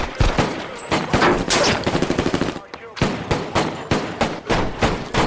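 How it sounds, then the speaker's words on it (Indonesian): Loud, rapid bursts of gunfire fill a film shootout, with dense rattling volleys, a brief pause, then more fast repeated shots. "Dari sana baku tembak pun kembali terjadi"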